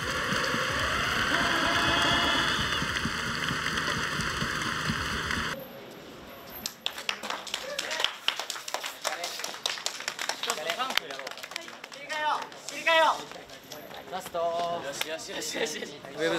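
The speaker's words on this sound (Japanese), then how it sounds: "大きな拍手をお願いいたします" Audience applause at a dance league championship semifinal, dense steady clapping mixed with music for about five seconds before it cuts to people talking.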